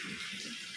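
Water pours steadily for a hot water bath, a close, continuous hissing splash with no break.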